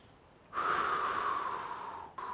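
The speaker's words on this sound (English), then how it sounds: "Lie there, take deep belly breaths" One slow, deep belly breath drawn in close to the ear, a breathy rush lasting over a second that fades gently before the next breath begins.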